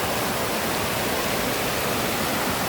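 Water at Mui Wo waterfall pours down hard in a strong, steady rush. The roar is loud and close and covers everything else without a break.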